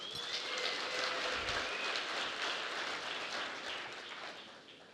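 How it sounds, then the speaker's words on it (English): An audience claps for Miss Nisbet from Scotland, a steady dense wash of applause that carries through the whole stretch and fades slightly toward the end, with no talking over it. "so give her a big round of applause"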